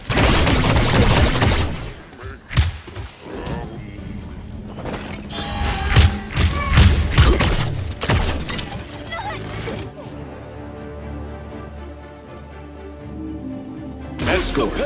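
Gunfire in the Paladins shooter game, bursts of rapid shots and heavy thuds mixed with impacts and game effects, loud and close, with voices talking over parts of it.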